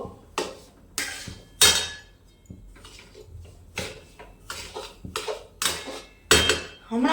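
Flour roasts in ghee in a pan over low heat while a spoon stirs it, making repeated close metallic clanks and scrapes against the pan in an irregular rhythm with short pauses.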